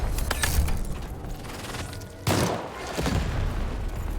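A cannon fires in the video game Lost in Random, a deep booming blast around the midpoint over continuous loud game ambience and rumbling background sound.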